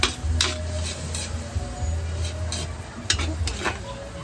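Pansit noodles cooked in a pan give an ongoing sizzle broken by repeated scraping stirs and utensil clatter against the pan, fairly loud and close, with a low hum beneath.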